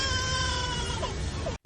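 A bird gives a drawn-out wailing call that sounds like a crying baby or a meowing cat, loud and close, ending abruptly.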